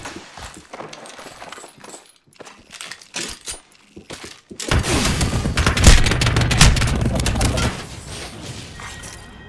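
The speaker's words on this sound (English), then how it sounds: "Listen up, I'm getting shot at." Gunfire erupts in an Apex Legends match, a dense burst of rapid automatic shots and impacts swelling loud in the second half after scattered softer pops and game sounds, with a voice speaking early on.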